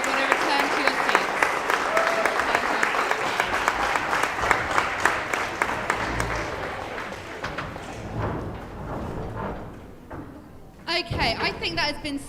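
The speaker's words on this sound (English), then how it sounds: "Can I just have another round of applause for our amazing debate team?" A room gives a warm round of applause for a school debate team at a speech and debate festival, steady clapping that fades out before a short burst of talk near the end.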